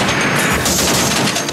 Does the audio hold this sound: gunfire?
yes